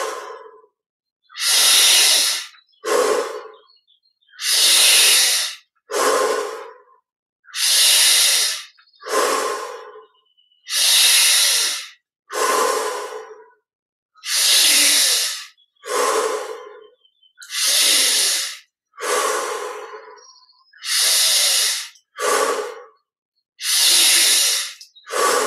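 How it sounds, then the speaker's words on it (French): Deep rhythmic breathing during a guided meditation, with long inhales through the nose alternating with audible exhales through the mouth, about a dozen close, loud breaths repeating steadily with no talking. "les 20 respirations profondes. Inspire par le nez, expire par la bouche."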